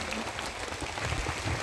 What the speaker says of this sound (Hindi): एक बार जोरदार तालियों के साथ में स्वागत वंदन अभिनंदन करेंगे पूज्य गुरुदेव भगवान का।